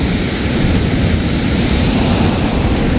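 A loud, rushing river flows steadily and close, a constant dense roar that drowns everything else with no voices heard over it.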